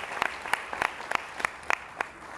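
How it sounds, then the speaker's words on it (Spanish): An audience claps for a speaker at a talk on advertising attribution models. The claps are sparse, uneven and fairly faint, with only a few sharp hand claps standing out over a soft murmur. "quiero les doy un aplauso, por favor, Carlos, mil gracias por compartirnos esta perspectiva"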